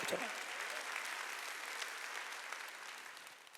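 A church congregation at a Sunday worship service claps its hands, a faint, continuous patter of many hands heard from a distance for a few seconds.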